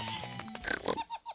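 A cartoon piglet oinks and grunts in a quick series of short, nasal snorts, close and fairly quiet, ending in a few separate clipped oinks.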